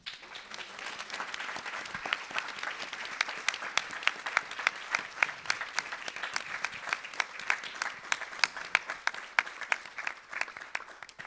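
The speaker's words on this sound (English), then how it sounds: "we all give each other the biggest round of applause that we can." An audience at a memorial celebration gives a big round of applause, a continuous wash of many hands clapping with sharper individual claps popping out, heard at a distance and lasting over ten seconds.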